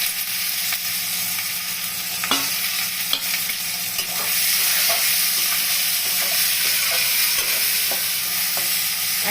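Tomatoes go into sizzling oil already tempered with whole cumin and five-spice seeds for a pointed gourd yogurt curry, giving a steady loud frying hiss with stirring scrapes and a few sharp clacks, and no one speaks.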